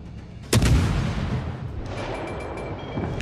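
Fubuki destroyer guns fire in the naval game World of Warships Legends, a single loud booming blast followed by a long rumbling decay that fades behind faint game sounds.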